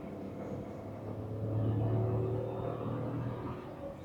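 A Tata Curvv car with a 7-speed dual-clutch gearbox revving in manual mode, held to about 5000 rpm without upshifting. A steady engine drone rises into a louder, higher-pitched whine mid-clip, then eases back slightly.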